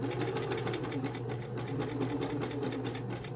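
A sewing machine stitches elastic into the waist of a knit skirt, running slowly and continuously in a steady, close mechanical whir with rapid needle rhythm and no pauses.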